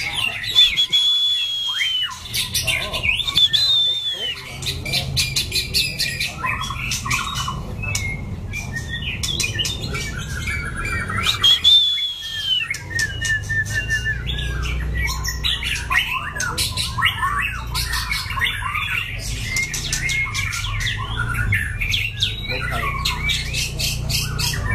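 A young white-rumped shama sings on its first outing on a training stand, giving loud, varied whistles, chirps and squawks that run almost continuously throughout, close by over a steady low background hum.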